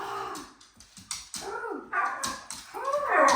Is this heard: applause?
no